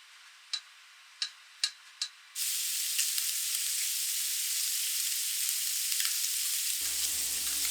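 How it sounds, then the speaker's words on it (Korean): Bacon sizzling in a pan over medium heat: a few sharp ticks at first, then a loud, steady, dense crackle that continues to the end. "중불에서 베이컨을 구워요."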